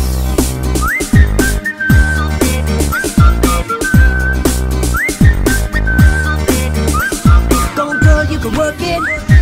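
A catchy melodic whistle hook repeats over a sped-up pop track, with bright rising whistle phrases riding on punchy bass hits in a loud, fast, looping pattern.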